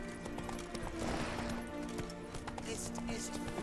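Horse hooves gallop in The Witcher 3: Wild Hunt video game, a rapid, steady clip-clop running throughout at close range over low game ambience, with an occasional whinny.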